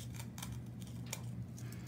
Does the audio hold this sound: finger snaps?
no